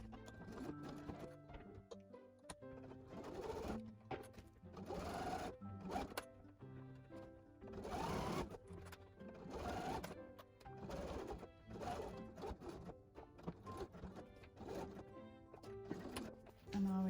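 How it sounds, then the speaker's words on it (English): A sewing machine stitches a narrow pocket seam on an art pouch, running in repeated rhythmic bursts of rapid chattering stitches with short pauses between, close and moderately quiet. "So we're going to stitch that now with a 1/8 inch seam allowance, or even a little less"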